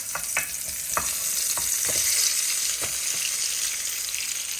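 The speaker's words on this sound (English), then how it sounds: "we're going to carefully pop those into there and then baste them" Roast potatoes lowered into a tray of hot goose fat fresh from the oven hiss and sizzle continuously, with a few scattered pops and light clatters as they are placed and basted.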